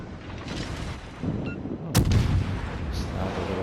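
Naval artillery barrage in the World of Warships game: a sharp, loud blast near the middle rises over a rumbling battle background, with a few fainter booms and distant firing around it.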